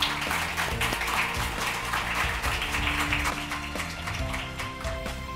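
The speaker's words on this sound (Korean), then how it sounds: "박수로 청해 듣도록 하겠습니다." Applause from an audience at an international forum, a broad patter of clapping mixed with steady background music or tones, moderately loud and continuous.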